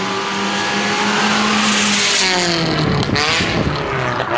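A Mazda MX-5 NC with an aftermarket exhaust revs hard and loud, its pitch climbing and falling through a rising sweep, with music playing underneath.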